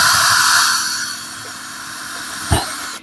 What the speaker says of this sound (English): Right now I'm just going through the back of the box. Try to keep your drill bit level.